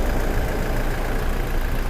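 A 2017 Toyota Fortuner 2.8V 2WD diesel idles close by with its hood open, giving a smooth, steady mechanical hum and rumble at even loudness throughout.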